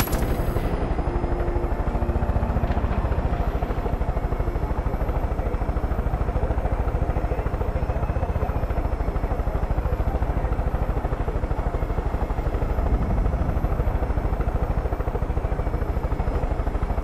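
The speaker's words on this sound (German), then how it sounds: "Helikopter fliegen in Far Cry." Helicopter in the video game Far Cry 5, a steady, loud rotor and engine drone that holds unbroken for the whole stretch, with no talking over it.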